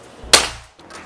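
A single sharp shot from a PCP bullpup air rifle, Black Army model with tactical magazine, a loud crack with a short decaying tail, followed by quiet handling noise.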